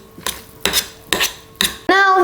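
Seasoned sushi rice mixed in a bowl: a few distinct scraping, knocking strokes of a utensil at a steady pace, ending in a ringing clink, close and fairly loud, with no voices.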